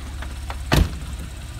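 A 2009 Porsche 911 Carrera idles with a low, steady engine hum, broken midway by a single sharp thud close by.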